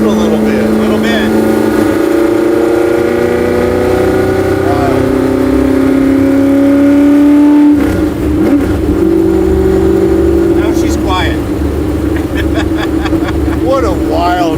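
A Shelby GT350 sports car accelerating hard through canyon roads, its engine rising in a long loud climbing whine, briefly dropping at a shift, then revving up again with steady tonal roar heard from inside the car.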